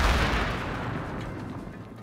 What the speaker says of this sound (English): I'm trying to request fire from the artillery.